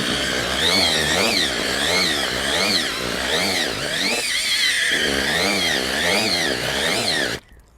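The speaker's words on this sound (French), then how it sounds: "Depuis que j'ai une perceuse, ça mélange, ça la tamise." An electric drill whirs while mixing groundbait for river coarse fishing: a loud, close, continuous motor whine that wavers in pitch as the load shifts, then cuts off abruptly just before the end.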